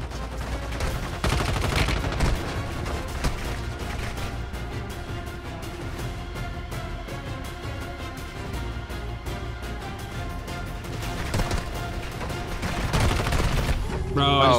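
Dense, sustained gunfire in the mobile shooter Warzone Mobile, with rapid automatic bursts and overlapping shots from several directions filling the whole stretch at high volume, and game effects layered over it.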